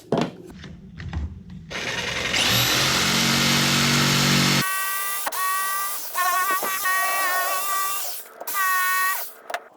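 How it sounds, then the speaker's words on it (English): A power tool cuts notches partway down a wooden board for a floating shelf: a loud roaring cut of a few seconds, then shorter bursts with a whining, pitched motor tone between brief pauses. "we want to cut notches out about halfway down the board"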